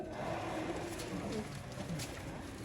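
Sialkoti pigeons coo softly and repeatedly at close range, faint against a low background hum.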